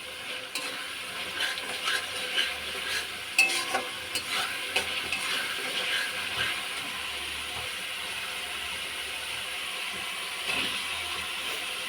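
Spice masala fries in oil in a pan with a low, steady sizzle, while a spatula stirs and scrapes through it every so often. Close and moderately loud, with no voices.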